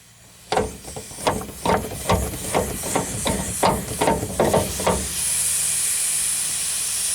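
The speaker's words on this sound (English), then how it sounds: "There's obviously some gas still in the lines." Residual gas hisses from a disconnected line on a Suburban ST60 RV water heater: first a run of knocks and clicks, then a steady, close, high hiss that carries on alone to the end.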